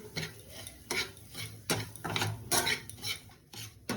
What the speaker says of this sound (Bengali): ওই 2-3 মিনিটের মতো নেড়ে চেড়ে গ্যাসটাকে লো ফ্লেমে রাখতে হবে